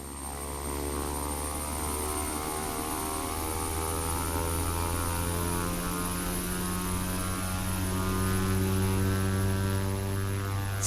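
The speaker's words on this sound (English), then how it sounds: "Sounds like a pretty standard turboprop to me." Twin Garrett T76 turboprop engines of an OV-10 Bronco in Flight Simulator X, a steady droning propeller hum with layered tonal whine, held constant and fairly quiet throughout.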